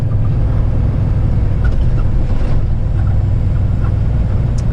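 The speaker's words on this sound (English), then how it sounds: "That's the sound of my mighty Jake brake." Loud, steady low-frequency diesel drone from a truck's Jake brake engine braking while driving through Kitchener, continuous and close with no talk over it.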